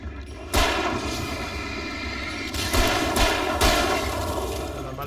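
Several loud, booming gunshots ring out at irregular intervals in Alan Wake, each followed by a lingering reverberant tail over a constant background rumble.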